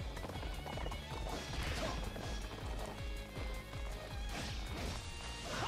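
A summoned horse in Warriors Orochi 4 gallops with steady, rapid hoofbeats amid clashing battle sounds, the clip-clop rhythm carrying through a dense, loud game mix with occasional whinnies.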